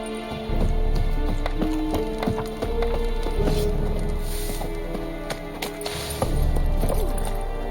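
In The Witcher 3: Wild Hunt, a horse gallops with quick, rhythmic clip-clop hoofbeats over a low rumble, close and fairly loud, with no talk.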